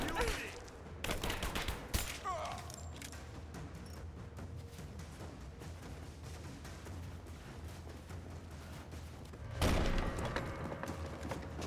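Gunfire in Rise of the Tomb Raider: a quick burst of shots opens, then a lull of rattling combat ambience, and another loud volley near the end, with shouting voices in the mix.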